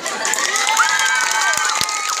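An audience at a live comedy stage performance in Nepal cheers and shouts in a dense, continuous roar, with a few individual voices rising above the crowd.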